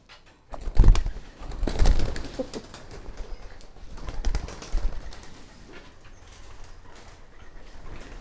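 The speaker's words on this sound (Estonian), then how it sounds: "keegi võiks karta tuvi, kes tahab natuke ringi lennata" Soft cooing and wingbeats from a white pigeon flying about indoors in a nature house, with a loud flurry of flapping near the start, then quieter bursts of movement and calls that fade toward the end.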